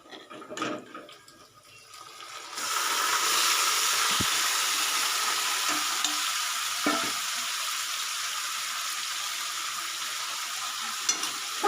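Loud, steady sizzling of onion and garlic frying with chicken for biryani, swelling after a quieter start, with occasional clinks of a utensil stirring the pan.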